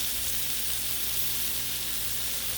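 Bacon sizzles on a hot Blackstone griddle as a dense, constant hiss, close up and unbroken, with no talking.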